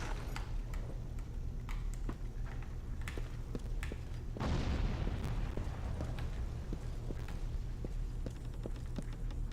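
A grenade blast in the first-person shooter game Resistance: Fall of Man, a broad roaring boom that swells near the middle over continuous game noise and scattered sharp clicks and impacts.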